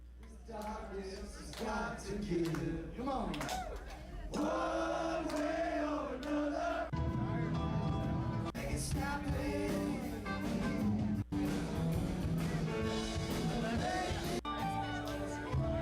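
A live concert crowd sings along in chorus with a band, the massed voices blending steadily into loud amplified music throughout, with no clear break.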